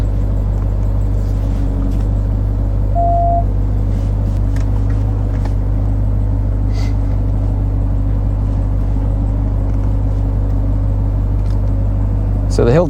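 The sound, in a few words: 2021 RAM TRX truck driving down over big rocks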